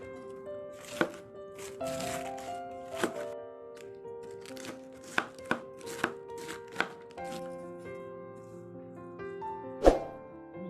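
Cabbage being chopped into small pieces on a board for chicken okoy fritters, a run of sharp knife thunks in uneven bursts, close up, with a steady tonal musical bed running underneath.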